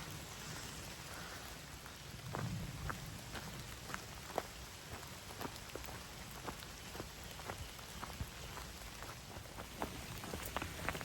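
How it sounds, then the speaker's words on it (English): Steady rain falling on a hiking trail along the Appalachian Trail, a soft continuous hiss dotted with scattered close drips and taps, faint and even throughout. "the rain has started early"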